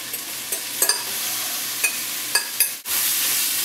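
Street meat sizzling on high heat in a pan, a steady bright hiss broken by several sharp stirring scrapes and clicks, close and loud, ending in a brief dip before the sizzle swells again.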